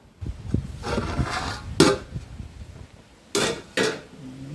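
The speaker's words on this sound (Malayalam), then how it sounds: "നമുക്കൊന്ന് തുറന്ന് നോക്കാം." A metal lid is lifted off a pot of boiling moringa curry on a gas stove, giving a few sharp clanks and clinks separated by quieter scraping and bubbling.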